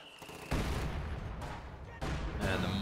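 Machine gun and mortar fire in the video game Company of Heroes 2, with a steady crackle of distant gunfire and two sudden louder bursts of impacts, under a commentator's talk.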